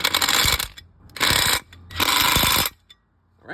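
Impact wrench tightening cross member bushing nuts on a Lexus LS400, three loud rattling bursts of about half a second each with short gaps, close and harsh, no speech.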